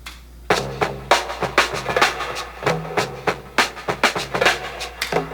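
A sampled drum loop rings out with busy conga and bongo hand-drum strikes over a low bass line. The hits fall in a steady, lively groove, loud and close, with no talking.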